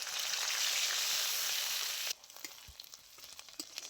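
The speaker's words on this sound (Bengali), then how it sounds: "পেঁয়াজটা খুব ভালো করে লাল লাল করে ভেজে নিয়েছি।" Onion paste frying in hot mustard oil in a wok, a loud, steady sizzle that drops off abruptly partway through, leaving softer crackles and small stirring noises.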